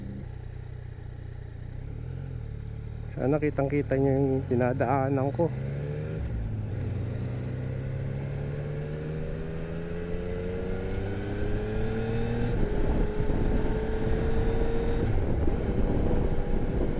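A tall motorcycle's engine climbs steadily in pitch as it accelerates on a casual group ride. Wind noise runs throughout, and the rider talks over the engine.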